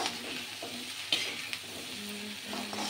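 Bhindi (okra) sabzi with turmeric, red chilli, coriander powder, garam masala and salt cooking in a pan, giving a soft continuous sizzle with a few light stirring clicks and scrapes, fairly quiet.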